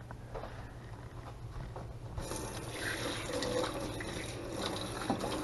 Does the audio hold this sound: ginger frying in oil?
no